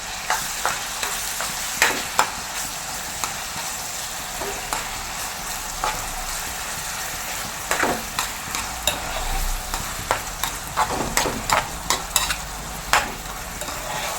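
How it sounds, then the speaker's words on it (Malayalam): Green chili, ginger and garlic paste frying in a pan for a Kerala-style mackerel masala fry, stirred with a steady sizzle and repeated sharp scrapes and clicks of the spoon, close and alone without talk. "പച്ചമുളക് ഇഞ്ചി വെളുത്തുള്ളി പേസ്റ്റ് ഇതെല്ലാം കൂടെ നല്ലപോലെ ഒന്ന് മിക്സ് ചെയ്ത് കൊടുക്കാം"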